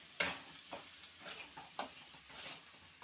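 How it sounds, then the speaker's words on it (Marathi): Vegetables in a pan being mixed with red chili powder, salt and turmeric, giving a quiet sizzle with a few soft spatula scrapes and knocks, close and faint, no speech. "तर आता मी हे व्यवस्थित मिक्स करून घेणार आहे."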